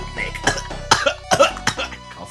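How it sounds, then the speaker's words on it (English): A man coughs several times in short bursts and clears his throat, the rough, hacking sounds close and spaced irregularly over a couple of seconds. "Coughed and cleared his throat."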